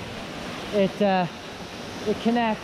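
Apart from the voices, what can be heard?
waterfall near a cave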